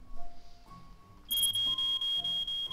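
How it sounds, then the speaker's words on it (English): Steady high-pitched electronic beeps from the video game Jagged Alliance repeat in an even, rapid rhythm, loud and continuous after a quieter start with faint background tones. "What is the beeping noise?"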